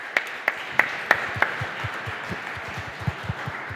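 Audience applause at a startup tech conference, with scattered, fairly thin clapping that begins with a few louder claps and then settles into a softer, steady patter.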